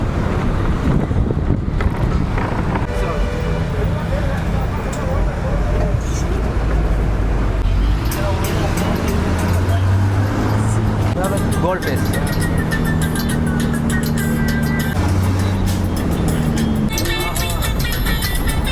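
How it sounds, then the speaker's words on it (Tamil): A city bus rumbles through Colombo traffic with constant engine and road noise, wind buffeting the microphone and people talking over the ride throughout. "பஸ்ஸில் இப்போ போவோம்"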